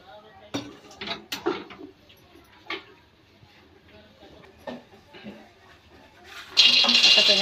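Metal kadhai (wok) set down on a stove to heat, with scattered clanks and scrapes of pan and utensils spaced out over several seconds and a steady sizzling hiss at the end.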